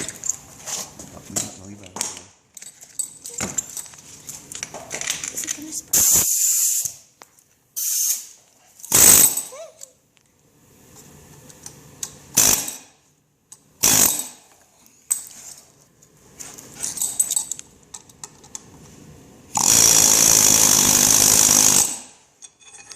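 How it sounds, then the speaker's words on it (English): Air chisel hammering at a rear axle bearing retainer on a 2000 Jeep Grand Cherokee Limited WJ, loud close bursts of harsh pneumatic rattling of varying length, the longest near the end, separated by quieter gaps. "Now I'm going to use an air chisel to further remove it."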